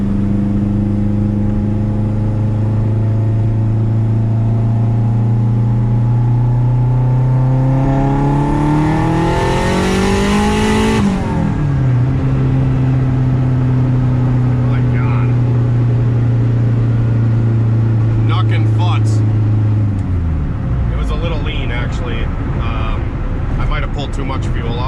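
A 500 hp turbocharged Honda K24 car pulls hard in fourth gear on the street, its engine note climbing steadily, dropping briefly at a shift-like break, then rising again before cutting off, loud and close with no talk.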